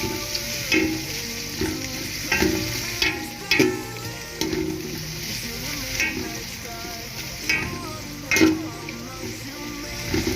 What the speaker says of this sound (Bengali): এবার আমি ভালো করে নাড়াচাড়া করবো এটা